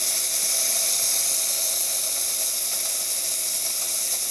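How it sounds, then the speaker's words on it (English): Steam wand on an Olympia Cremina 67 lever espresso machine, fitted with a replaced pressurestat, blasting a strong, steady, loud hiss that runs unbroken close to the microphone. "Okay, now we're going to test the steam."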